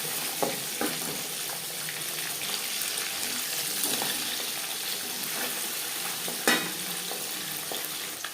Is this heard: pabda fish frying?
yes